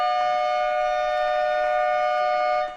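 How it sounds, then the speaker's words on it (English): End-of-match siren at an Australian football game, a single loud sustained horn blast held steady for nearly three seconds before cutting off, heard alone without commentary. "And there's the siren, David."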